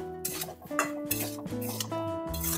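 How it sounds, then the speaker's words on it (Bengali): Fried taro is stirred into spices in a pan, with clinks and scrapes of a metal spoon against the pan over a faint sizzle. Several short, close strokes come in uneven rhythm. "এবার মশলার সাথে কচুরমুখিটাও ভালোভাবে কষিয়ে নেব"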